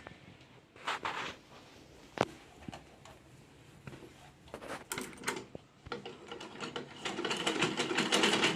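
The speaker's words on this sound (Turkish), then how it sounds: "Bakın makine şangur şungur çalışıyor. Dikiş yapıyor ama zoraki yapıyor." A second-hand sewing machine running roughly stitches a fabric scrap, giving scattered clanks and ratcheting knocks that build into a rattling, uneven run near the end, close and fairly quiet.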